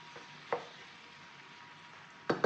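Previously frozen ground meat frying quietly in a pan for a quiche, a soft low sizzle broken by a single scrape of stirring early on and a quick double scrape near the end.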